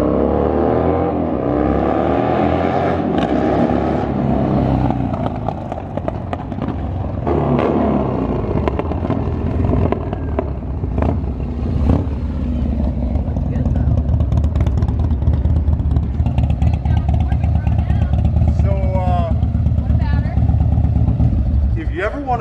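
A Standard Motorcycle Co motorcycle engine revs and rips loudly nearby, rising and falling in repeated throttle bursts with a continuous rumble underneath, while voices seem to come through at times.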